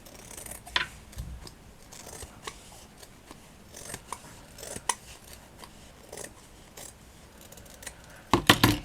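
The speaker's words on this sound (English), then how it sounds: "I'm just going to fold them in half and try and snip this straight." Scissors snip folded strips of satin ribbon in a series of short, crisp cuts, close and fairly quiet, with a quick cluster of louder snips at the end.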